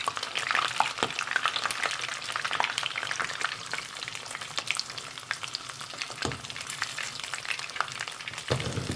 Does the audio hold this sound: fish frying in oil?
yes